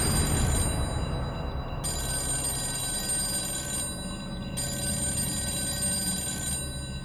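An old-style telephone bell rings in long bursts separated by short pauses, steady and fairly loud against a constant background hum.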